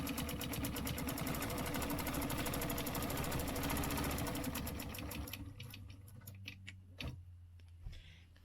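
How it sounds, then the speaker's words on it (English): A sewing machine stitches a stencil project in one fast, even run of rapid ticking stitches, close and clear. It slows and stops near the end, leaving a few scattered clicks and handling noises. "So let me just stitch this real quick."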